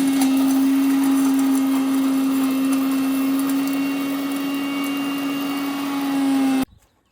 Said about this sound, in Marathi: हे ते मिक्सरला पूर्ण चुरा करू आणि मग त्यात टाकू